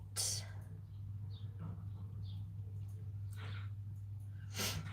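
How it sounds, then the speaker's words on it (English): A few short nasal sniffs come through, close and quiet, over a low steady electrical hum. "apologies for all my sniffling"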